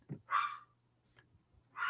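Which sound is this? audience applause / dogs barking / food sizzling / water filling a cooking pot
dogs barking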